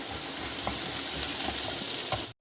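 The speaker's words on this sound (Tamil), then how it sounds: "வெங்காயம் அப்புறமா வந்து பச்சை மிளகாய் இஞ்சி பூண்டு சின்னதாக கட் பண்ணி வச்சது இவ்வளோத்தையும் போட்டு முதல்ல" Onion, green chili, ginger and garlic sauté in hot oil for a cabbage ball masala, giving a steady, close sizzle with a few soft stirring clicks before it cuts off abruptly.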